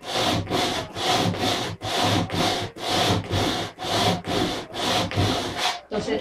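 A wooden mannequin being shaped with sandpaper by hand, heard as loud rhythmic back-and-forth rasping strokes, about a dozen evenly spaced passes with brief pauses between them, alone without talk.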